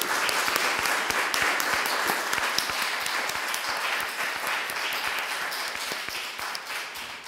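Sustained applause from a forum audience on northern Syria, a steady wash of many hands clapping throughout, with individual sharp claps standing out near the front.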